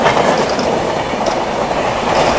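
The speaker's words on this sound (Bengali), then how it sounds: "এই দেখো চলে গেল জনশতাব্দী এক্সপ্রেস" A Jan Shatabdi Express train rushes past at high speed, a loud, continuous roar of wheels and rail noise with faint clickety-clack that holds steady throughout, close by and with no voices.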